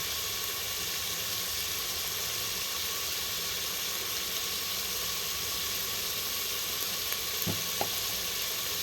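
Biryani masala and turmeric sizzle in a hot oiled pan, a continuous dense frying hiss at even level throughout, with a couple of faint utensil taps near the end and no talk.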